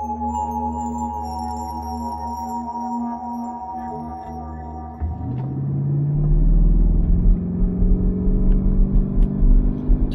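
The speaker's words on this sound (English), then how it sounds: "Turbo spooling up." Porsche Cayenne Turbo revved in place as the turbo spools up: a steady engine hum, then around five seconds in a deep rumble surges and rising whine tones climb as the revs build, close and loud, no talk.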